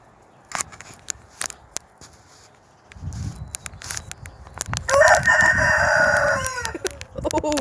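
Rooster crows loudly and nearby among clucking chickens on a grandfather's farm, the crow rising strongly mid-clip after scattered clucks and pecking sounds, with some rustling and handling noise underneath.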